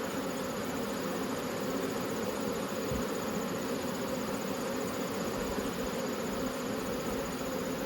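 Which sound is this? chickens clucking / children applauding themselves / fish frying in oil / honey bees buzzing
honey bees buzzing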